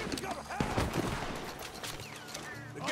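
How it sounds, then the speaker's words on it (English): A rapid, dense volley of gunfire from the Red Dead Redemption 2 video game, a continuous rattle of overlapping shots at moderate distance alongside game chatter. "The gunshots are coming from that."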